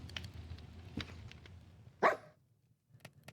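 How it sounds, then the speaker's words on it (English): A dog in Minecraft, sitting idle in a hardcore survival world, gives a short whimpering yelp over a low game background, with a few faint clicks before and after. "he's making a whimpering sound when he's just kind of sitting here"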